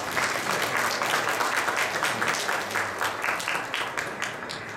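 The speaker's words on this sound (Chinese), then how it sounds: "再次的掌声恭喜！" Sustained audience applause at an award ceremony for the 12th Taiwan Golden Tripod Awards, a dense steady wash of many hands clapping at close range that fades slightly toward the end.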